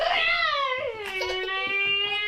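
A cat meows loudly and close, one long drawn-out cry that starts high and slides down, then holds steady with soft background noises underneath.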